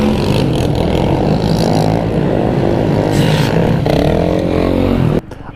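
A loud ATV engine roars steadily and close at a Myrtle Beach stunt show, holding a rough, revving drone for several seconds before it cuts down sharply near the end.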